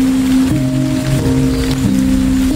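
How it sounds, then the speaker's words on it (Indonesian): Sudden local rain falls around a house as a loud, dense, steady hiss, with sustained musical tones layered on top. "Betapa bahagianya mereka saat hujan lokal tiba-tiba turun di sekitaran rumahnya."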